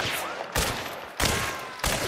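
Gunfire in a first-person shooter match on a map called Fork River: three sharp, loud bursts of shots about half a second apart, each decaying into a noisy tail.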